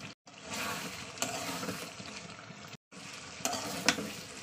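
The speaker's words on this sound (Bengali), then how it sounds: "ভালো করে মশলার সঙ্গে কষে নিচ্ছে।" Meat and spices are stir-fried in a pan, giving a close, steady sizzle with scraping and stirring clatter. The sizzle breaks off twice for a moment, and sharper scrapes or taps come through near the end.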